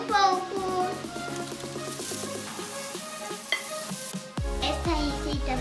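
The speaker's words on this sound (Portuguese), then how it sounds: "Agora vou mexer um pouco." Strawberry cake batter is stirred in a bowl, a soft rhythmic scraping and clinking of a utensil, fairly faint and close, with music playing underneath.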